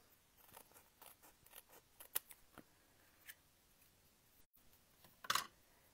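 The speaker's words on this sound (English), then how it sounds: "So I'm just going to cut all the way down this side." Scissors snip along one side of a paper craft piece, a quick run of short, crisp cuts that is fairly quiet and close, ending in a slightly louder snip, with no talking.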